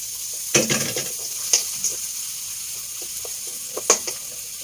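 Sautéing in a pan for pork tocino gives a close, fairly loud sizzle, punctuated by a few sharp spatula scrapes and clatters against the pan.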